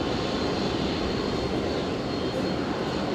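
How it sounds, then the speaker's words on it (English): A Boeing 787 Dreamliner departs Brisbane Airport, its jet engines producing a loud, steady broadband roar that fills the whole stretch without breaks. "Beautiful Dreamliner departure."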